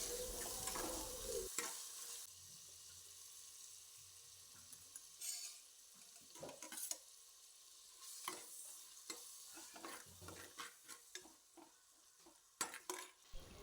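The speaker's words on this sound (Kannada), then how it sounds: "ಈರುಳ್ಳಿ ಫ್ರೈ ಆದ ತಕ್ಷಣ ನಾವು ಕ್ಲೀನ್ ಮಾಡಿರುವಂಥ ಪ್ರಾನ್ಸನ್ನು ಇದಕ್ಕೆ ಹಾಕಬೇಕು ಇದು ಸ್ವಲ್ಪ ಫ್ರೈ ಆಗಬೇಕು ಆಯಿಲಲ್ಲಿ" Prawns and onions fry in hot oil, a soft steady sizzle broken by scrapes and clinks of a spoon stirring against the pan, close and fairly quiet with no talking.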